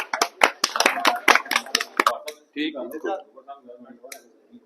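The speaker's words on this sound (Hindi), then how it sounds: "तो उनके लिए तालियां" A birthday-celebration crowd for Khan Sahab claps in a quick, uneven burst of sharp hand claps for about two and a half seconds, then the clapping stops and nearby voices talk over a quieter room.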